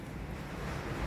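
Strong monsoon wind blowing steadily during light drizzle, a continuous broadband roar with low rumbling gusts buffeting the microphone, no voices present.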